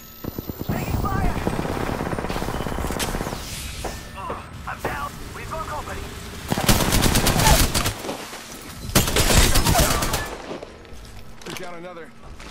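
Video game battle with bursts of automatic gunfire and heavy impacts, loud volleys swelling twice amid mechanical clicks and quieter gaps, with voices speaking in between.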